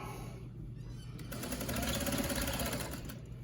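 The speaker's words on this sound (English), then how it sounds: "We're sewing down the center of the strap." A sewing machine stitches down the center of a fabric face mask's tie strap, a continuous close whirring hum that gets a little louder and busier partway through, running steadily with no talk.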